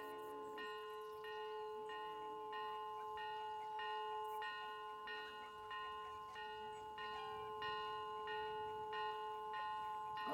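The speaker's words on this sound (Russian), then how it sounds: "Это колокол моей деревни. Он звонит по утрам, возвещая начало занятий в школе." A village bell rings in the morning to mark the start of school, sounding in regular repeated strikes with long ringing tones that fade between hits, over a steady faint background.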